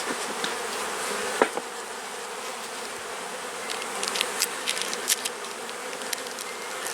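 A dense, continuous buzzing of many honey bees around an open hive close by, with occasional individual bees zipping past louder.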